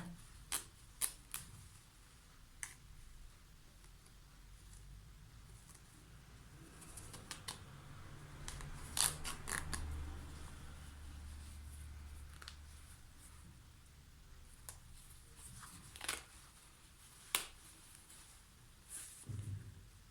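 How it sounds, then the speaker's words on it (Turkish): Overlock stitches being unpicked from denim jeans: close, sparse sharp clicks and snips of thread breaking at irregular intervals over a quiet low hum, with no talking. "Overlock dikişlerimizi de açalım şu şekilde"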